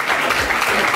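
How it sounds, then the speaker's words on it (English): Audience applause after a 17-year-old fourth-tier professional racer is introduced, a dense burst of clapping close and loud for about a second. "give a round of applause real quick."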